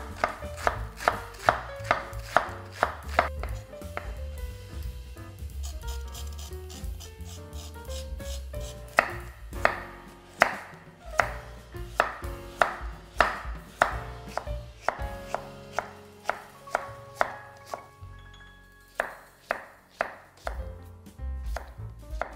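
Knife chopping vegetables including red cabbage on a cutting board, a long series of crisp, close thuds in an uneven but steady rhythm, with soft background music beneath.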